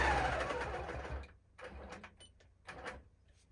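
A quilting machine on a small Cutie frame stitches a Christmas tree skirt, a steady mechanical whir that fades, then returns in short, quieter bursts, fairly close and without speech.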